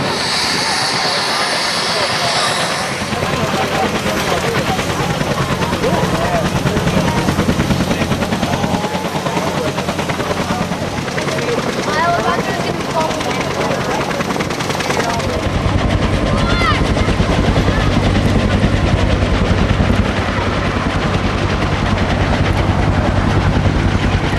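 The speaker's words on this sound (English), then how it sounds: "the KMAX turning up ahead of us has no tail rotor, but yet the Robinson does" A Kaman K-MAX helicopter, which has no tail rotor, spins its rotors up on a runway at a rotorcraft festival, giving a loud, steady chopping engine roar with talk over it.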